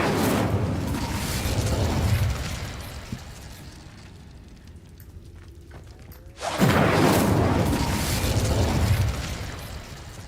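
Incendio fire spell cast in Hogwarts Legacy, a loud whooshing burst of flame that roars for a couple of seconds, quiets, then flares again in a second strong fiery surge.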